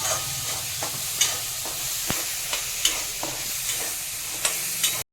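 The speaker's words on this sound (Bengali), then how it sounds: "ছোলাটা খুব ভালো মতো ভেজে নিচ্ছি" Chickpeas frying in a pan with a little turmeric for a pumpkin curry, a steady close sizzle broken by regular scraping stir strokes, with no voices.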